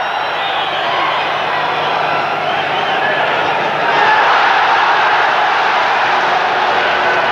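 Large arena crowd at a 1982 professional boxing bout between Rafael Limon and Chung Il Choi, a steady wash of cheering and crowd roar that swells slightly midway, sustained and fairly loud throughout.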